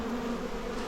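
Honey bees crowding back into a tightly packed hive being packed down for winter give a steady, close, dense buzzing drone that holds at an even level without a break.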